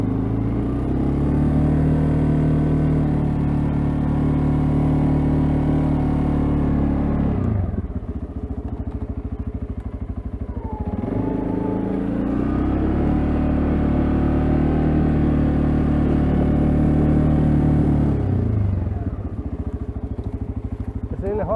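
An ATV engine drones steadily while plowing snow in a blizzard, its loud low hum holding at a constant pitch with two brief dips where it eases off and then pulls again.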